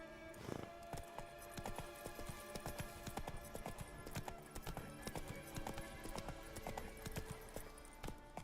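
Steady clip-clop of horse hooves at a riding pace in The Witcher 3, continuous and fairly loud, with clattering game ambience and no speech.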